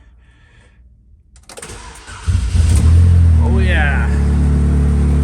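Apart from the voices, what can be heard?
NASCAR Pure Stock car engine starting and running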